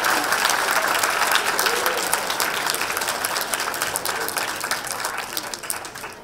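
Audience at a debate competition breaks into sustained, dense applause, loud and even throughout before tapering slightly toward the end.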